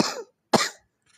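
Two sharp, close coughs about half a second apart, the second slightly stronger, each trailing off quickly, with silence between and afterward.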